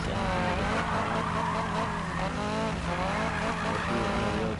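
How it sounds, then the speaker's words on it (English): Sustained tire squeal and engine roar from a car drifting side to side in the racing video game Need for Speed 2015, loud and continuous with wavering pitch, no voices. "I do that purposely, drifting side-to-side, because that's just how my drifting style is"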